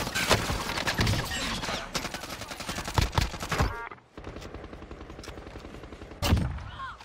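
Rapid automatic gunfire in Warzone, close and loud, rattles in dense bursts, eases briefly, then a single heavy shot punches through near the end.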